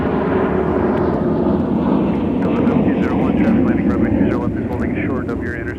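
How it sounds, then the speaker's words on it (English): A CRJ regional jet taking off at an airport, its engines a loud continuous roar. Radio chatter runs faintly over the top. "CRJ taking off right now."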